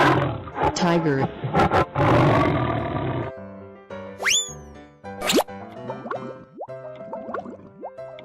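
A tiger roars loudly in a cartoonish animal-crossing game, followed by springy boing and plop effects over a light musical backing.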